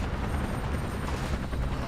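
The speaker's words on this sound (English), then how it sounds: "an American helicopter is going to strafe me" American helicopter flying in the video game Battlefield Iraq, a steady, loud rotor drone with low thumping and broadband noise running throughout.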